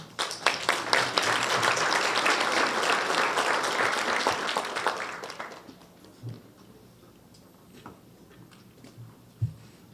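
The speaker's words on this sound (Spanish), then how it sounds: "a quien recibimos con un fuerte aplauso" Audience applause at an evening legal lecture on administrative procedure at a justice ministry, a dense burst of many hands clapping for about five seconds, then fading to sparse stray claps and quiet room sounds.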